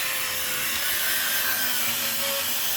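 A power drill brush whirs steadily while scrubbing a car seat's fabric, a continuous grinding buzz with a rough, rubbing texture throughout.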